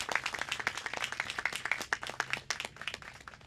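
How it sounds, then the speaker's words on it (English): A small crowd claps at an outdoor ribbon-cutting for a park and creek project, a scattered burst of applause with uneven, overlapping hand claps that slowly thins out. "Everyone give us a round of applause just for getting this far with the project."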